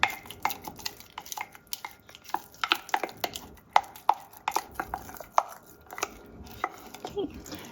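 A spurtle working sourdough starter and flour together in a jar, giving a series of sharp, irregular knocks and scrapes against the glass, close and fairly quiet with no talking.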